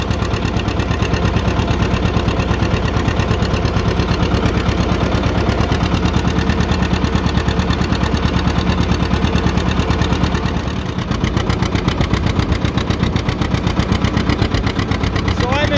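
A John Deere 70 tractor engine pulling a plow, a loud close rhythmic two-cylinder putt-putt that runs steadily, dips briefly near the end, then picks back up.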